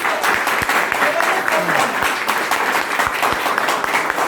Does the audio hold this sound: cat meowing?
no